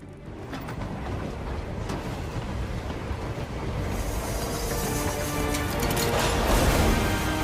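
A train rumbles and roars in the video game Hitman 3, a dense, loud, continuous mechanical rush that builds slightly louder over several seconds.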